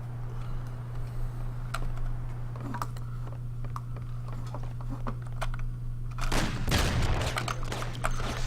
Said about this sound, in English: The guy again is shooting at me from afar.